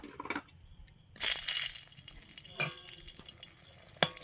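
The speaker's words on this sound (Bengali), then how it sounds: "সর্ষের তেল দিলাম, একদম সামান্য হিং" Tiny pinch of asafoetida dropped into hot mustard oil for a pumpkin, potato and pea curry, giving a brief crackling burst of sizzle with soft utensil clinks, then quieter spitting and a sharp tap near the end.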